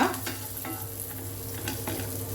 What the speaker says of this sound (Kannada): ದ್ರಾಕ್ಷಿ ಬಿಸಿಗೇನೆ ಇದು ಫ್ರೈ ಆಗ್ತಾ ಹೋಗ್ತದೆ